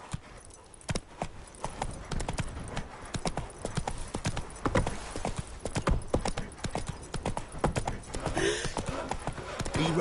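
Roach, a horse in the video game The Witcher 3, gallops with rapid, steady clip-clop hoofbeats close by, faint voices in the background, and a brief whinny-like sound near the end.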